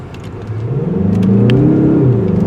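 Mazda CX-30 Turbo, a 2025 model, accelerating hard, its engine note rising steadily in pitch over a couple of seconds, close and loud with no voices.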